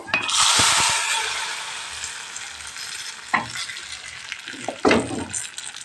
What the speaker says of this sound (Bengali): এখন আমি একটু ফোড়ন দিয়ে দেব